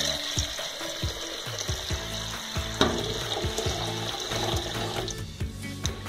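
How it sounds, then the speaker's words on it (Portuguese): Water pours steadily into an aluminium pot, a continuous splashing and rushing close by with a faint metallic ring, no talking. "coloca água."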